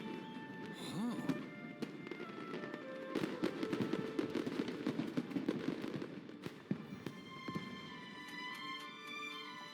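A fireworks show in the Genshin Impact video game, with a rapid burst of cracks and pops over a low rumble that thins into scattered bangs and a bright musical tone at the end.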